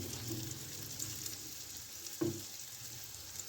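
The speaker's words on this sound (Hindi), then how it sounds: "अब हम इसको 2 से 3 मिनट के लिए कुक कर लेंगे मीडियम फ्लेम पे रख के।" Chicken fillets frying in a pan over a medium flame, a steady close sizzle with a brief louder burst of crackle partway through.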